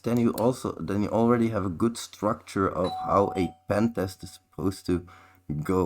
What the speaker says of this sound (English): sorry about that doorbell